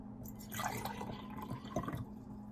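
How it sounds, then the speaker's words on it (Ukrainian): Cold water pouring into a drinking glass for a tea diffusion demonstration, a steady trickling fill lasting a couple of seconds, close and fairly quiet over a low background hum. "В першу заливаємо холодну воду"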